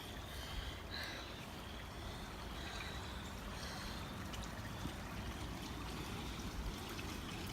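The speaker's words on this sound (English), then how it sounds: "There's the creek." A woodland creek at the edge of a rural property flows with a faint, continuous trickling wash, soft and steady throughout, with light rustling in the background.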